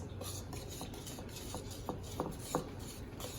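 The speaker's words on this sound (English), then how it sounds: "And I highly recommend getting a whisk to mix this to get any lumps out" Whisk stirring vegan cinnamon pancake batter in a bowl, soft repeated scraping and light clinks at close range, quiet and steady with no talking.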